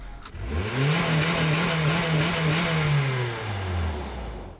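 A 2012 Honda Civic engine with its stock exhaust revs up and holds a steady, mild drone before easing off, the exhaust note smooth and unobtrusive, close by.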